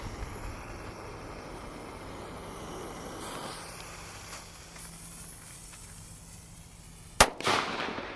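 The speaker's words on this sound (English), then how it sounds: "All right, here goes the jumbo-sized firecracker." A jumbo-sized firecracker set by a cinder block outdoors: a faint fizzing hiss builds for several seconds, then one sharp, loud bang, followed by a brief crackling burst that dies away.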